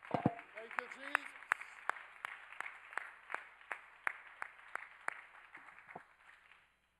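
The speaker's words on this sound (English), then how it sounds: "clap your hands to the Lord and thank him right now" A church congregation at a worship service claps their hands in unison. The claps are steady, evenly spaced and sharp, and they carry on for several seconds with some voices underneath.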